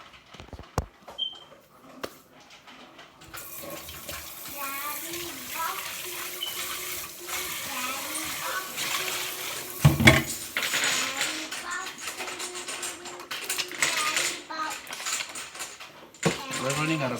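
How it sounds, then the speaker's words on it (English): Dirty cooking pot being washed at a sink under running tap water, with splashing, clinks and scrubbing noises building after a quiet start, while people talk over it. "So we're gonna wash this pot."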